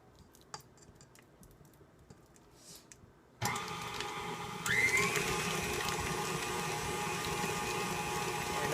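An electric hand mixer whips shea butter in a bowl. After quiet scraping it switches on with a steady loud whir, then steps up to a higher, stronger drone when the speed is raised.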